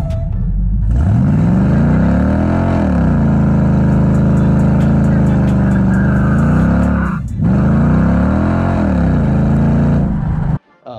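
A 1968 Dodge Charger with an 8 3/4 rear end revs hard through a one-wheel burnout, a loud sustained engine roar that climbs, holds, dips briefly, then surges again before cutting off abruptly.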